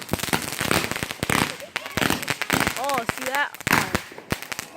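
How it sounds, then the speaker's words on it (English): Fireworks go off in rapid crackling bursts and sharp pops, loud and close, while people talk and call out over the bangs. "You might not be able to hear me because the fireworks are very loud."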